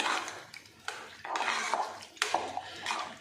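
A spoon scrapes and knocks against a metal pot of rice and lentils in several separate strokes, close and fairly loud, with some wet shuffling between them.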